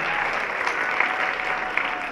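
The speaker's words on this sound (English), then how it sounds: "Please give a big round of applause for all the finalists." A fashion-show crowd gives the finalists a loud round of applause, with many hands clapping in a steady, unbroken wash and a few sharper claps standing out.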